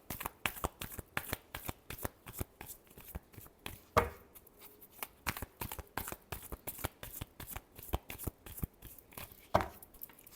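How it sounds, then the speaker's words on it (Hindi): A deck of tarot cards is shuffled close by in quick, regular riffling slaps that run steadily throughout, with two heavier thumps as the deck is squared. "last shuffle"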